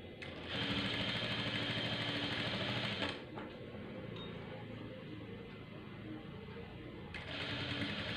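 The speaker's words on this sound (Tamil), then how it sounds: "பைப்பிங்கில் படாத அளவுக்கு தையல் போட்டுட்டு வரணும்." A sewing machine stitches piping for a saree in loud, fast, even bursts, running for a few seconds, pausing briefly, then starting again, close and alone.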